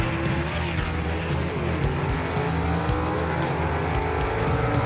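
A 1967 Rambler gasser drag car roars down the strip at a Southeast Gassers race, its loud engine holding a sustained, rumbling drone throughout, with no voices over it.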